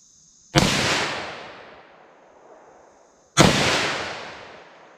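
Two loud, sharp .357 SIG pistol shots ring out outdoors roughly three seconds apart, each a sudden crack followed by a long fading echo tail.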